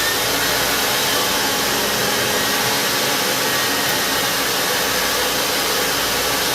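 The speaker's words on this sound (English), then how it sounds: "We're going to do a test fire on just propane." A home-built turbojet engine test-fires on propane with a loud, steady roaring rush of air that stays constant throughout, with no voices.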